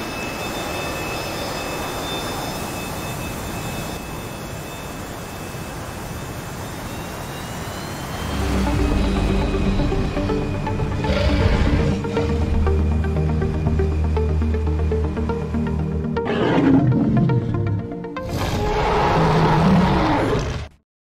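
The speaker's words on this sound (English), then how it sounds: "we're taking off here from Kassab" A VNAO T-45C Goshawk jet spools up and rolls for takeoff from Kassab in a flight simulator: a steady whine gives way to a loud, broad engine roar that swells and surges, with a few abrupt shifts near the end.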